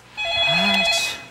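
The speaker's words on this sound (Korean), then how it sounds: "전화부터 빨리 받아봐요." A telephone rings once in a short, bright electronic trill, close and clear, ending abruptly with no talk over it.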